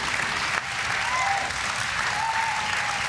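A live studio audience at a Berlin late-night talk show claps continuously, a thick even wash of many hands with a faint voice briefly rising under it.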